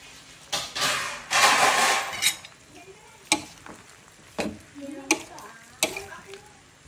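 Vegetables are tipped into a pot of softened sweet potato and stirred, giving a short sizzling burst followed by a series of distinct scrapes and clunks of a utensil against the pot.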